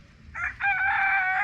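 A rooster crows loudly and close at a farm near Lago Calima in Colombia, with one long drawn-out call that rises and holds.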